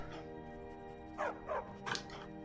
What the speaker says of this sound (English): Big dogs. Very big dogs.